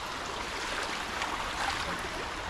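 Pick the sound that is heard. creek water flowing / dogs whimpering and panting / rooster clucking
creek water flowing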